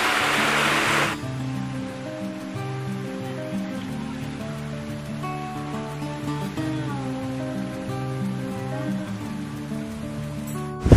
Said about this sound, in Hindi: ओह यहाँ से मैं आपको झरना दिखाई देता हूँ